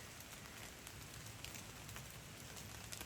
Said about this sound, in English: Boy, it is raining.